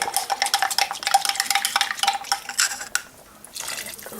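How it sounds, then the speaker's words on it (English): Cornstarch mixture being stirred in a small container for beef stew, rapid rhythmic clinking and scraping of a utensil that stops near the end before a softer final rattle. "I'm going to add a heaping tablespoon of cornstarch. Stir this all up."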